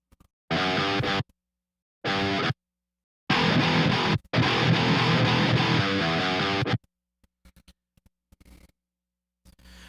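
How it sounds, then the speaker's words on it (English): Bursts of heavily distorted, chugging djent metal electric guitar in short stop-start phrases with gaps of silence between, loud and close, ending in faint scattered noises. "So I kind of want a little bit of that spanky djent sound."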